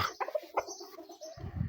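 A roused rooster clucks and calls in short bursts during a rooster fight, fairly close but not loud, ending in a rustle of scuffling.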